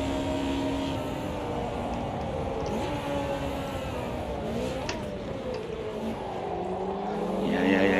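Race car engine in the Automobilista 2 sim, held at a steady high drone near the Mulsanne straight, with a pitch dip under braking before climbing again as speed builds, continuous and loud throughout.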